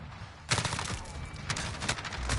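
Gunfire in the video game Modern Warfare, a near burst of rapid shots starting half a second in, then a second volley around the midpoint and scattered shots to the end, loud and dense.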